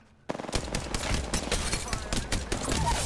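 Rapid automatic gunfire in a video game bursts in suddenly after a short quiet moment and keeps going as dense, loud, continuous rattling until the end.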